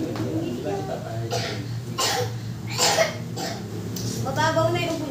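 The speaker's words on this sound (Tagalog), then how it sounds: "Mababaw na yung ubo niya." A child coughs repeatedly in short, harsh bursts at close range, with adults speaking around the coughs in a home setting.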